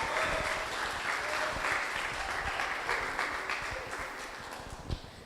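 Audience applause for a presenting group at the Geo Tourism International Conference 2023, a steady wash of many hands clapping that gradually softens toward the end, with one sharper clap standing out near the close.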